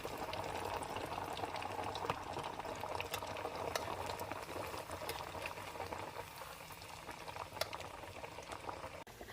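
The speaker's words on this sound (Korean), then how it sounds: "돈가스를 넣고 튀겨주세요." A pork cutlet deep fries in hot oil in a fryer, producing a faint, continuous bubbling fizz with occasional small pops throughout.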